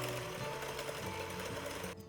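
An electric mixer steadily whirs as it blends a butter pecan ice cream base until smooth, a constant motor drone close by that cuts off abruptly near the end.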